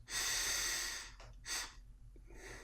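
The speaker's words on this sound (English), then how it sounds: "Take a nice slow deep breath in through your nose." A slow, deep breath drawn in through the nose, a long soft airy inhale lasting about a second, followed by two shorter breathy puffs, close and quiet.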